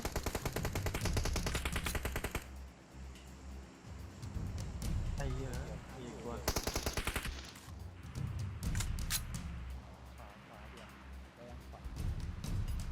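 Rapid automatic gunfire in the mobile battle royale game PUBG Mobile, long loud bursts with a shot or two between, while a player talks excitedly over the shooting.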